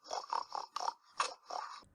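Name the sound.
pig snorting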